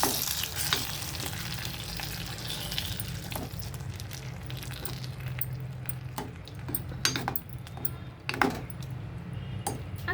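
A spoon clinks against a pot while hot tempering is stirred into dal, giving a continuous close sizzle broken by repeated metallic scrapes and taps.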